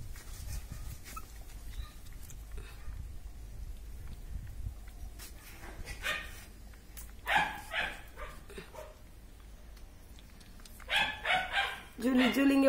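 Lhasa Apso puppy yaps in short bursts close by, mixed with people talking to it indoors.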